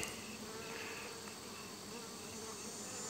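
Bees buzz in a dense, continuous drone throughout an open beehive inspection, the swarm sound steady and close with no talk.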